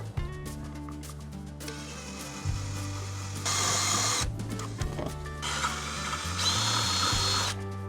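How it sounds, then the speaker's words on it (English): A power drill boring a single hole for a horn bracket on a Mercedes Sprinter van, whirring in several bursts of varying pitch with short pauses between, close and fairly loud. "I just need to drill a single hole in here"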